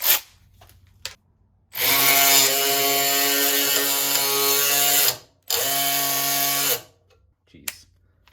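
A cordless DeWalt 12V high-speed ratchet runs loudly in two sustained bursts, a steady high-pitched motor whine lasting several seconds, then a brief pause and a second shorter run, each start and stop abrupt; no talking.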